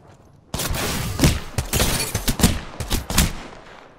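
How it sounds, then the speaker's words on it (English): Loud, close gunfire in the battle royale shooter Apex Legends erupts after a quiet start. Several sharp bursts and shots follow one another in uneven clusters for the rest of the moment. "Getting shot at."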